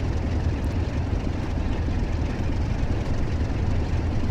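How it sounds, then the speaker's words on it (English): A Class 47 diesel locomotive throttles up out of Preston toward Blackpool North in Train Sim World 4, giving a steady, loud, low engine drone that holds level throughout with no voices. "Throttle on and away we go for Blackpool North."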